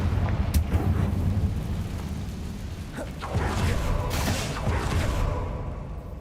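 Fire spell explosions in Hogwarts Legacy gameplay: loud rumbling booms and whooshing bursts, with a sharp crack near the start and heavy blasts through the middle before fading toward the end.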